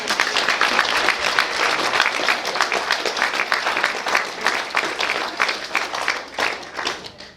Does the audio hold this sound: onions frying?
no